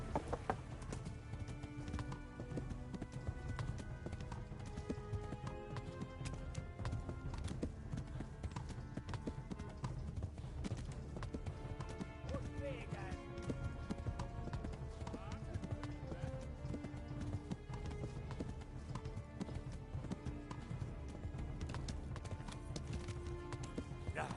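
Horse hooves gallop steadily in Kingdom Come Deliverance 2 along a stream, a constant clip-clop running the whole way under game music and talk, with an occasional whinny.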